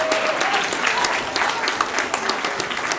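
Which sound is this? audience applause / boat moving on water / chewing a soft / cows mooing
audience applause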